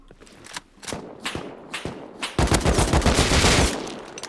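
Gunfire in the Rust video game starts as scattered single shots, then turns into a dense, loud burst of rapid automatic fire, with no voices.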